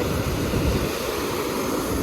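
A steady rush of flowing water pouring continuously, loud and close, with no voices.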